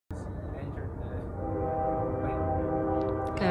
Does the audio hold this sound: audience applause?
no